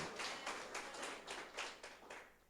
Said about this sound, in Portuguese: os presentes aqui podem aplaudir o Deus Todo-Poderoso